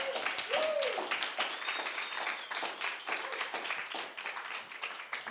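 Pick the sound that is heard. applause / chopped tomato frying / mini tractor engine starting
applause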